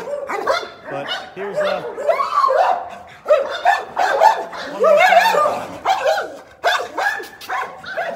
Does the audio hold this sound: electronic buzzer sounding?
no